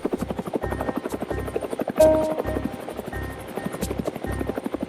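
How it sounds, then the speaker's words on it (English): An attack helicopter flies overhead with a steady, loud rhythmic rotor chop, its thudding blade pulses repeating evenly throughout amid a continuous engine whine. "Attack helicopters and other aircrafts for tactical operations as well as for personnel and logistical movements has been crucial to peacekeeping missions"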